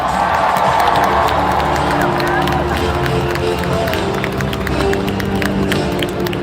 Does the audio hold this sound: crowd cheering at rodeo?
yes